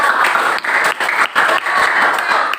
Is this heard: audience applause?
yes